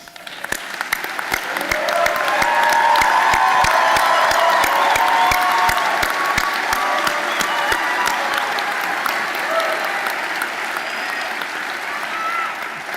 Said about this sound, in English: please stand if you are able so that these graduates can thank you with a well-deserved round of applause